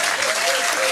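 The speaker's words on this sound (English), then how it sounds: "let's put your hands together and give a huge cheer for our victory winners from last week" An audience at a pub music trivia quiz gives a short burst of dense, loud applause for the winners, a steady clatter of many hands filling the room.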